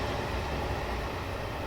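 A train in Train Sim World 2021, on a route with a Class 37 locomotive, rumbles past as a steady, loud broadband roar of rolling wagons that fills the moment without pause.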